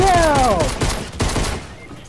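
Rapid bursts of gunfire in the video game Fortnite, loud and dense over two seconds, with a voice shouting over the shots.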